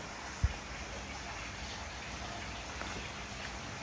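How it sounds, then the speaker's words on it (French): Steady rain falls outdoors as a faint, even hiss with no talking, broken by one brief low thump. "Il pleut. As usual."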